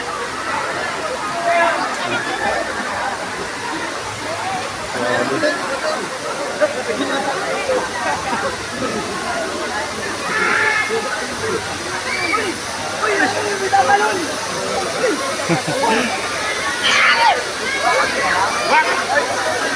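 A mountain stream at a spring resort rushes steadily nearby in a continuous splashing flow while people talk over it.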